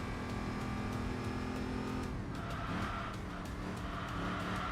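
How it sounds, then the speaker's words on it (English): A supercharged V8 supercar accelerates in the Enthusia Professional Racing game, its engine note droning steadily upward, with tire squeal and a mid-clip shift in tone as the revs climb. "the rapid acceleration of the supercharged V8"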